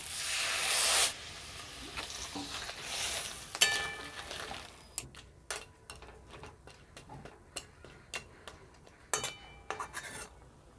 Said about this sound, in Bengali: কাঁকড়াটা এবার আমি ভালো করে ফুটিয়ে নেব